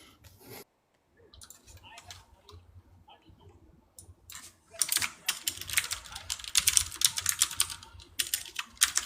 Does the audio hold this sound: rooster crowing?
no